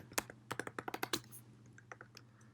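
Fingers type on a computer keyboard, a close run of about a dozen quick, crisp key clicks in an uneven rhythm, thinning out toward the end.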